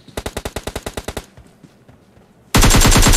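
Automatic gunfire in PUBG Mobile: a rapid burst of about a dozen evenly spaced sharp shots, a short lull with faint distant pops, then a loud dense stream of firing starting abruptly near the end.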